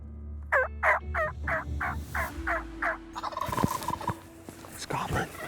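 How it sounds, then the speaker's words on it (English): A wild turkey gobbles in a rapid rolling burst of about eight loud, close pulses, followed by scattered rustling and handling noises, with another fainter gobble near the end. "Oh man, he's gobbling. He's gobbling his head off."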